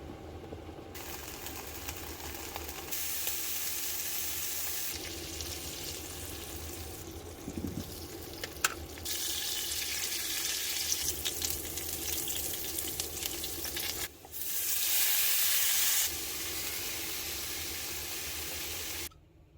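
Lamb sausage frying in a pan at a 4x4 van camp in the British Columbia backcountry, a steady, close sizzle that holds throughout with brief louder bursts, and no talking.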